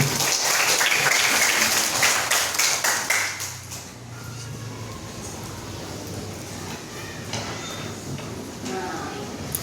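A group of children in a classroom applauds, giving a burst of clapping that fades out after a few seconds and leaves quieter room noise behind.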